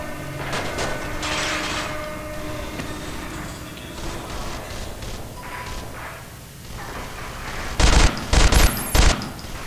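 Rapid controlled bursts of gunfire in the sci-fi shooter Interstellar Marines, loud clusters of shots in quick groups, with the sharpest three short bursts coming near the end over ambient game noise.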